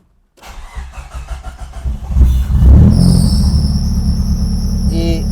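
Nissan 200SX with a programmable engine computer cranks with the key, catches and settles into a loud, close, steady idle, with a faint high whine appearing over the running engine.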